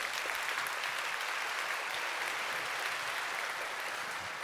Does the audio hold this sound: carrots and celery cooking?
no